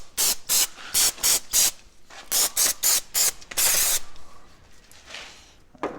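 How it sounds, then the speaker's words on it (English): Aerosol spray on a rusty go-kart shaft: a string of short, sharp hissing bursts in quick succession, then one longer spray that trails off into a faint fading hiss, close and alone with no talk. "All right, so get that quick spray down."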